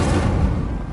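Incendio fire spell cast in a Harry Potter video game, a brief low whooshing burst of flame with a booming rumble, loud and close, lasting under a second.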